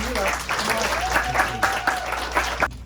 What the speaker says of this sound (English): how about a round of applause for Ari